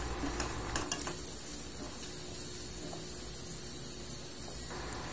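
Chopped onions sautéing in a pan for a creamy dish, giving a steady, close sizzle with a few stirring clinks near the start and no voices.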